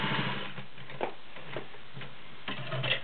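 An all-metal, gear-drive Singer Touch & Sew 603E sewing machine stitching, giving a smooth, steady mechanical whir with light rhythmic ticking, close and alone without talk.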